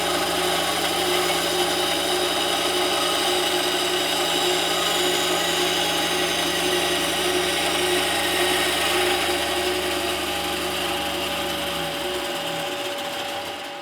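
A tensioned power saw blade cuts wood veneer for an antique parlour guitar front in a continuous loud buzzing whine with a steady motor hum, running evenly for over ten seconds before winding down.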